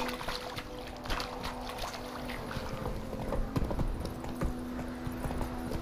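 Geralt's horse Roach in The Witcher 3, hooves clip-clopping in a steady trotting rhythm, moderately faint beneath ambient background sound, continuous throughout.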